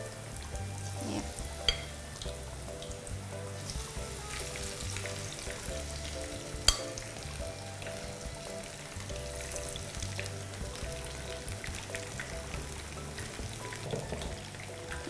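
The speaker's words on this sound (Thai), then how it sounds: "เริ่มจากเอากุ้งลงไปทอดค่ะ ทอดในน้ำมันร้อนจัดนะคะ" Shrimp deep-fry in very hot oil, giving a steady, close, dense sizzle that runs unbroken throughout, with a faint clink or two over the bubbling.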